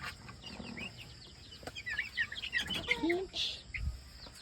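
A turkey's calls mixed with other fowl clucking and chirping nearby, short bursts over a quiet farmyard background.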